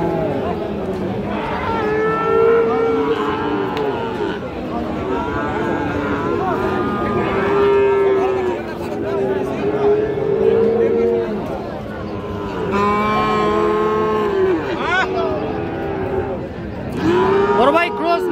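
Friesian and crossbred bull calves moo repeatedly at a busy Raniganj cattle market, long drawn-out calls overlapping one another, loud and close, with people talking throughout.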